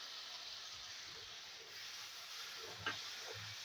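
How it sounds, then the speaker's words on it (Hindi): Masala spices fry in a pan for dhaba-style matar paneer, giving a steady, soft sizzling hiss with a few faint scrapes near the end. "हम मसाले को अच्छी तरह से भूनेंगे"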